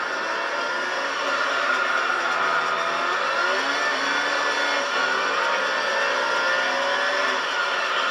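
Race car engines in Gran Turismo 3 hold a steady, loud, high-pitched whine, with several cars droning together and the pitch shifting slightly as they race.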